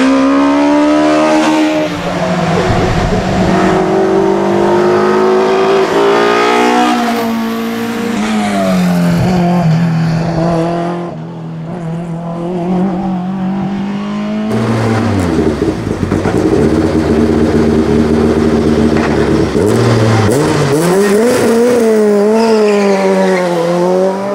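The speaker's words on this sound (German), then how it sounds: "nämlich mit Marco Rauch im Fiat 128 Coupé" A Fiat 128 Coupé hill climb race car roars loudly past, engine revving high through gear changes with rising and falling pitch, close and continuous.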